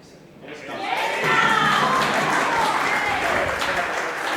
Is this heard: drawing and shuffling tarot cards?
no